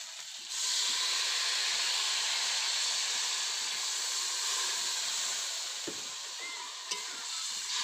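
Water poured into a hot pan of fried bhola fish curry with mustard paste gives a loud, steady steaming hiss and sizzle that rises after a brief pause and holds, with a short clank near the end.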